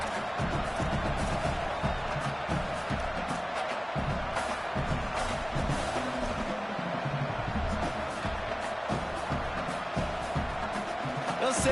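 A steady roar from a packed stadium crowd in a college football video game, Auburn against Notre Dame, building before a field goal try, continuous and loud with a commentator's voice faintly under it.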